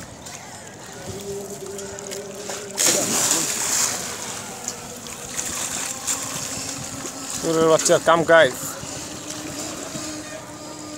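A boat out on the water during Eid day outings, with soft splashing and sloshing under people talking, plus a sharper burst of water noise partway through.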